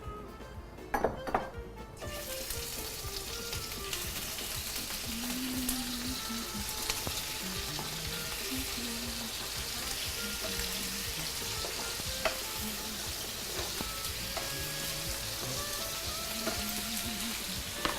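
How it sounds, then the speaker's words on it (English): Bacon and steak frying in hot oil, a steady close sizzle with occasional clinks of pan and utensil, continuing alone at moderate level throughout. "We want that bacon nice and crispy, so we'll give it a good heat in the beginning and then turn it down a bit"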